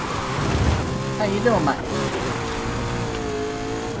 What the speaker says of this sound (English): Just trying to drift the McLaren.